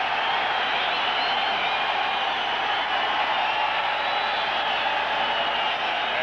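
A dense, steady roar from a large stadium crowd cheering at a 1994 NFL game between Denver and the New York Jets, loud and unbroken throughout.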